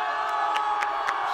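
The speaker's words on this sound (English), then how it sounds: "Huge yell. A roar from the crowd." Crowd at an under-18 boys' ultimate frisbee match (Trans Tasman series) roars and cheers steadily throughout, a dense, sustained wall of yelling with a few sharper whoops rising out of it.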